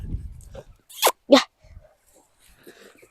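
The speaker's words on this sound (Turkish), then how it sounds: "Köpek gördüğünüz gibi" A dog gives two quick, sharp barks close by, followed by faint whimpering sounds and quiet shuffling in an otherwise calm setting.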